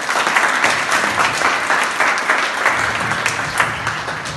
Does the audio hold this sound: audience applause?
yes